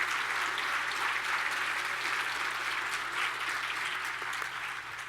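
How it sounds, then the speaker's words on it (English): An audience applauds students and their sponsors at a tech-themed event in Detroit, the clapping steady and fairly even for about five seconds with no voices on top. "How about joining me in a round of applause for the students and their sponsors?"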